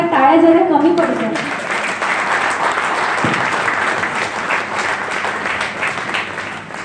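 A hall audience applauds a very young award winner, with dense, sustained clapping that fills the room. A voice is heard at the start over the clapping.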